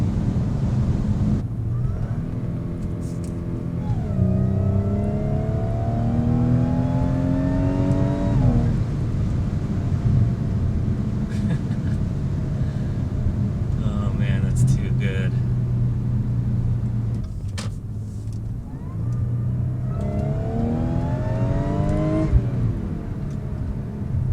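An Audi SQ5 supercharged engine with a CTS Turbo intake hums steadily and rises in pitch several times as it revs, with a faint supercharger whine on top and people talking over it.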